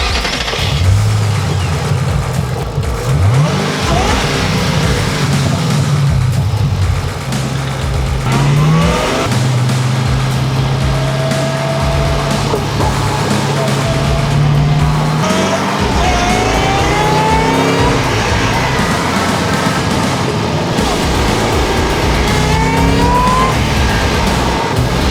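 A Roush car engine accelerating and revving on an open road, loud and close from inside the cabin, with rising whines and repeated surges through several gear changes.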